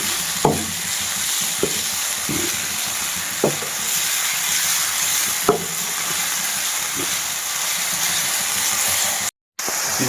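Keema (minced meat) with garlic-ginger paste sizzles and hisses steadily in a pan, with occasional scraping stirs and clinks, continuous and close, then a brief sudden silence near the end.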